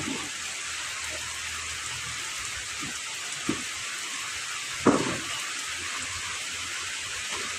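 Steady rain hissing down outdoors in a rural Philippine setting, with a few faint thumps and drips landing nearby over the constant wash.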